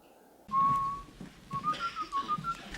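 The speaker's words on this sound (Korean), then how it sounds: "그는 휘파람을 불며" A man whistles a short melody, starting with one sustained note and then moving into a wavering tune. The whistling is fairly clear over faint room noise.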